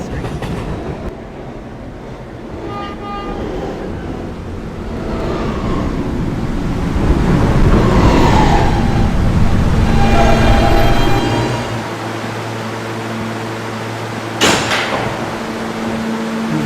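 Subway B train running between stops, a steady loud rumble of wheels and car noise with rising and falling squeals, a brief sharp screech near the end, no voices.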